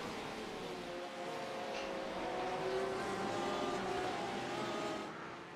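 Green Porsche GTE race car engine at Imola in a sim racing endurance series, a steady droning rev with harmonic whine that swells slightly mid-clip, heard at moderate distance without talk.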